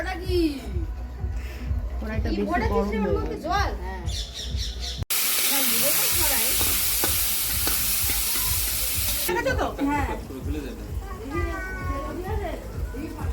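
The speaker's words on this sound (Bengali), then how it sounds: "কড়াইতে ঘি পড়ছে" Ghee sizzles in a wok while rice is fried at an outdoor family birthday picnic. A loud, hissing burst of frying rises in the middle and is surrounded by lively chatter and voices.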